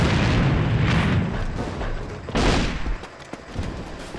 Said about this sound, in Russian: Граната противника!